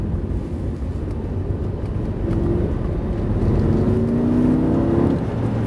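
A Lamborghini Gallardo engine drones steadily while driving, its pitch rising gently as the revs climb, heard from inside with no talking.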